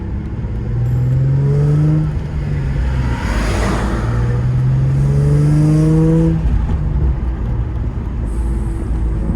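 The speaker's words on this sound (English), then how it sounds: "That rattle is killing me." A Nissan 350Z Nismo with a rattle drives along, its engine note loud and continuous as it rises and falls through two long pulls, with no talking.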